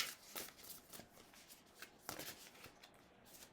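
Close, quiet riffling and flicking of a tarot deck being shuffled by hand, with crisp repeated card snaps in an uneven rhythm and no talking.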